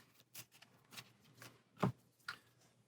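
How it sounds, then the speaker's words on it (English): Upgrade cards for the board game Dice Throne Adventures being shuffled together by hand, a handful of soft separate riffle-like flicks and taps, faint and close, with one sharper snap near the middle. "we take all his upgrade cards, we'll shuffle those together"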